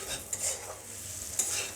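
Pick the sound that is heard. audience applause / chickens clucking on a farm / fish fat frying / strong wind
fish fat frying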